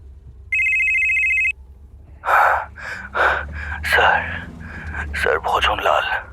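In a Bengali detective audio drama, a phone rings with one steady electronic tone for about a second. Gasping breaths and voiced sounds from a performer follow at close range.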